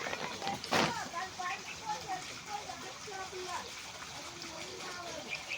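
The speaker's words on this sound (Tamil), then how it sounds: "தண்ணி பாருங்க எப்படி டேங்க் நிறைஞ்சு அந்த வாழைக்கு போயிட்டு இருக்குது" A garden water tank fills and spills over toward banana plants, water trickling and splashing steadily beneath a continuous voice talking over it.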